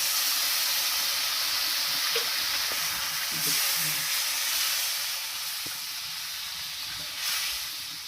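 Water poured into a simmering fish curry sizzles and hisses steadily in the pan, close and fairly loud, with a few soft clinks under the hiss.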